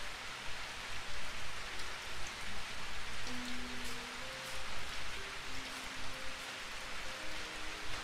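Constant rain hisses loudly throughout, with faint tonal hums drifting in and out beneath the downpour.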